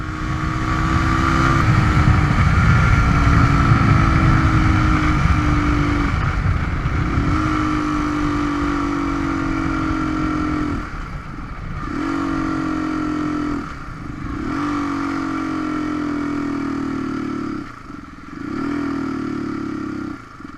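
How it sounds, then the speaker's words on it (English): A Suzuki DR350S motorcycle engine running at idle with a low fuel tank, a steady close drone that sags and stumbles several times as if about to stall, then picks back up. "So I'm just letting it idle for too long."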